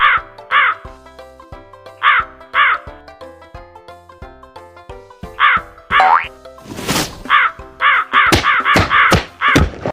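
Cartoon crows cawing in an animated story as a flock gathers to attack a wolf: repeated loud, harsh caws in short bursts, denser toward the end, mixed with springy boing effects and a whooshing swell.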